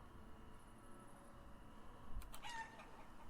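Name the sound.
chickens clucking in video game Life Is Feudal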